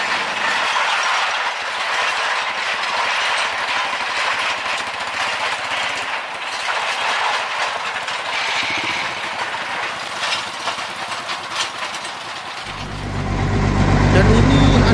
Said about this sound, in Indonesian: Dan sekarang lokomotif melewati perlintasan masih di daerah Duri teman-teman.